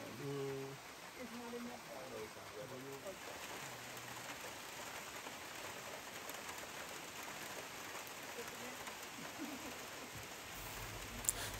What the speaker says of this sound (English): the rain was quite heavy, so we had to wait.